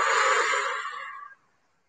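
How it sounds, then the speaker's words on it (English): A single long exhaled breath during a vocal warm-up, a close, breathy whoosh that holds steady for over a second and then fades out, with no talking. "Hold it for a moment as the air settles in your lungs, and then blow."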